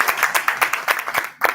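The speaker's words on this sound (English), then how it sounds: "I want you to give her a round of applause" Close, rhythmic clapping from an audience at a health and wealth expo, about a dozen sharp claps in quick succession with a brief pause before the last one.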